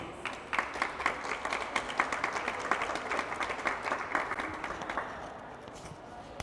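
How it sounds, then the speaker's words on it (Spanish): Audience applause at a World Psoriasis Day event, many hands clapping in a steady, close rhythm with distinct individual claps standing out, gradually thinning toward the end. "le pido un aplauso"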